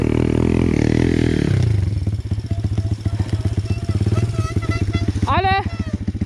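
A pit bike, around 140cc, rides enduro through a forest on a loud, close engine that revs in steady pulses, with rattles and clatter over rough, low-grip ground and a brief rising whine near the end.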